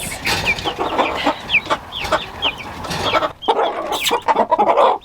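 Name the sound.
chickens clucking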